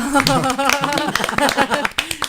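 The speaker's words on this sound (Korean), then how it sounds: "박수 한번 치고" Several people clap in a quick, scattered burst during a talk show episode while voices talk and laugh over it, close by.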